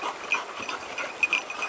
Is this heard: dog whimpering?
yes